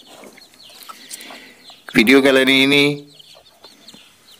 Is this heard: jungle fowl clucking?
yes